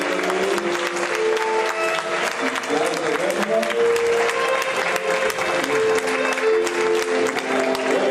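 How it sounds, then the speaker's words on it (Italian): Audience applause at an Italian anniversary ceremony for the Circolo Navarca, honoring Ennio De Corte of Aiello: steady, dense clapping from a crowd that fills the whole stretch at even loudness, with a voice or music faintly underneath. "Un applauso per lui."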